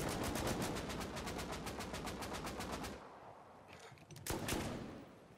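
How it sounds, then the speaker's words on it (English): M2 machine guns fire in a video game, a rapid, steady burst of heavy automatic shots for about three seconds, then a quieter pause and a few more scattered shots. "I'm literally hearing M2s fire off everywhere."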